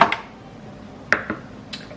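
The metal lid of a cooking pot, used for quick-cooking pot-au-feu, clinks and clatters in a few sharp, close knocks spread across two seconds, with no voices.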